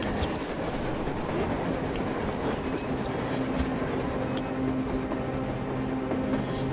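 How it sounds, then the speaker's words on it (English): A surface train in the Metro Exodus video game rumbles steadily for the whole stretch, with a continuous low rolling roar and faint sustained tonal whines riding on top, and no voices. "A train! A damn train on the surface!"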